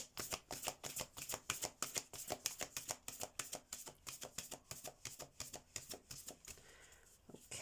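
A deck of oracle cards is shuffled by hand, close and soft: a quick, even patter of card riffles that continues for several seconds before briefly easing off.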